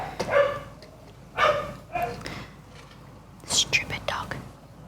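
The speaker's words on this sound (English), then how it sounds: "Stupid dog. Can you hear this dog?" A small dog yaps and barks in short, sharp bursts, several separate yips spread across the stretch with quiet gaps between them, fairly close and loud over faint background murmur.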